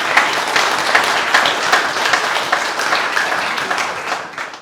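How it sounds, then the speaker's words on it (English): Audience in a Sephardi synagogue at a Torah scroll completion celebration giving the president a big round of applause, lively crowded clapping with a few sharper bursts, fading out at the end. "I think we should give our president a big round of applause."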